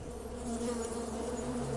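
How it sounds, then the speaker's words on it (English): A steady, droning buzz of bees hums continuously at a low, even level, with no other sounds. "Hum of bees."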